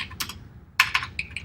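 Keys clatter on a Commodore Plus 4 computer keyboard in two quick bursts of close, crisp typing, several distinct keystrokes with short pauses between them.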